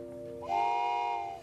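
A voice imitates a train whistle, a short rising hoot held for about a second, close and fairly faint.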